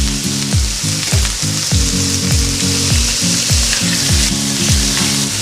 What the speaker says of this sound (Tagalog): I-fry lang po natin ang konti.